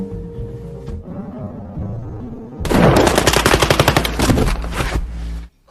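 Gunfire in a tense film scene with a robber, a long loud burst of rapid automatic shots after a quieter tense stretch, then an abrupt cut to silence.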